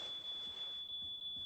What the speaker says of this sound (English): Eddie, turn off the alarm!